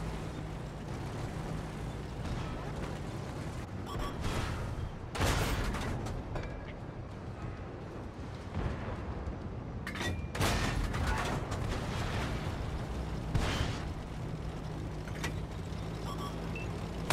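A tank's ammo rack detonating in World of Tanks on console, Dunkirk map: sharp, heavy explosive bursts over a constant engine rumble, with scattered mechanical clatter and no speech.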